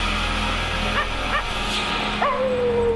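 A dog in Goosebumps: The Haunted Mask II gives a few short yips and whimpering barks, fairly close, over a steady humming background with music tones.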